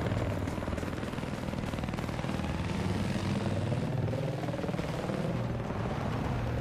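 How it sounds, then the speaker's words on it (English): Helicopter in the Battlefield 4 video game, a steady dense rotor and engine roar filling the scene throughout, loud and continuous with faint battle noise underneath. "at least we got two helicopters in the air now"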